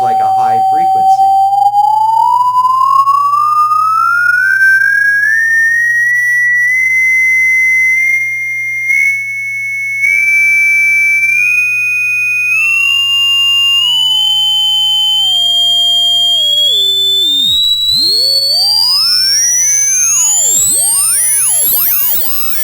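A tone generator puts out a steady sine tone that glides smoothly upward from a moderate pitch to a piercing, very high whine. It is loud and continuous throughout, with no talking.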